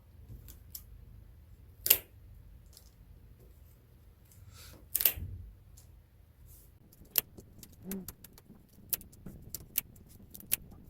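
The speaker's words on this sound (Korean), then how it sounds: "길게 남아있는 날대들은 길이를 적당히 빠지지 않을 정도로 적당한 길이로 잘라주세요" Scissors snip through rattan spokes while a woven rattan tray is finished, heard as sparse, crisp metallic clicks and cuts, close and quiet against near silence.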